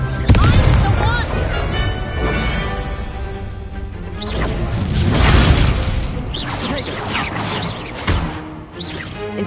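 Confringo spells detonate in the Hogwarts Legacy video game, producing loud, overlapping blasts, crashes and shattering debris over a busy combat soundscape, with a voice shouting spell names.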